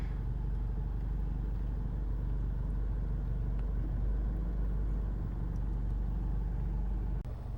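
A 2014 Honda CR-V 2.2 i-DTEC diesel 4x4 automatic idles steadily, with a continuous low, even engine rumble heard up close and no speech.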